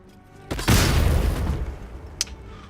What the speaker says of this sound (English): Do I have an explosive? I think I did have an explosive. Yeah, smoke powder bomb.